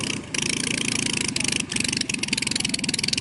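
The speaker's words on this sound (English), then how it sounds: "65 horsepower Warden 4-cylinder inline engine." A vintage aircraft's 65 hp Warden four-cylinder inline engine runs with a steady, buzzing drone, loud and continuous with a few brief dips in level.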